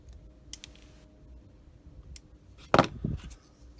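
Plastic parts of an Italeri 1/35 M47 tank model kit being snipped off the sprue, giving a few sharp, close clicks and snaps in an otherwise quiet room.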